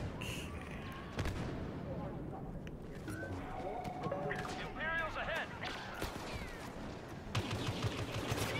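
Gunfire in the Star Wars Battlefront video game, with bursts of blaster shots and scattered combat effects running under a player talking.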